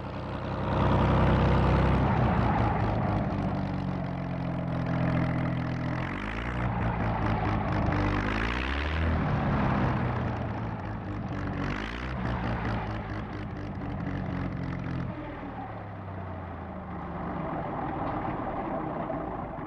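A P-40 propeller fighter aircraft fitted with 20 millimeter guns and a bomb rack flies past, a loud throbbing engine drone that swells and shifts in pitch before slowly fading.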